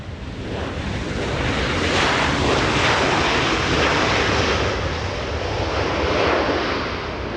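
A KLM Boeing 777 airliner roars loudly and steadily at Los Angeles International Airport, its broad jet-engine rumble swelling to a peak and then easing slightly, with no voices over it.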